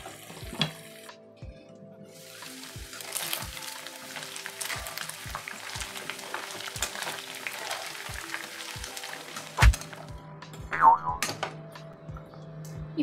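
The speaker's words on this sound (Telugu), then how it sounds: "ఈ చికెన్ ని మనం మధ్య మధ్యలో తిప్పుకుంటూ వేయించుకోవాలండి" Chicken pieces sizzle steadily in hot sesame oil while being fried for a homemade chicken pickle. A spoon knocks against the pan at a regular rhythm as it stirs, close and clear, with no talking.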